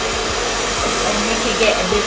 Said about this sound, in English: you can go in with your blow dryer on full setting